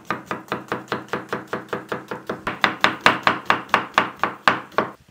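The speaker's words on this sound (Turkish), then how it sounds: "Bir tane soğanımızı yemeklik doğrayacağız." Knife on a cutting board chopping an onion, a steady run of about twenty crisp, evenly spaced close-up strikes with no talking.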